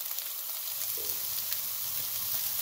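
Vegetables sizzle steadily in a hot pan as rice is tipped in for fried rice, a dense, continuous frying hiss with a faint soft stir, no voices.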